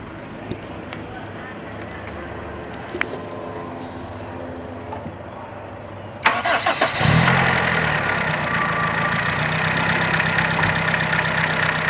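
A Toyota car engine cranks and catches, then settles into a steady, fairly loud idle that continues to the end.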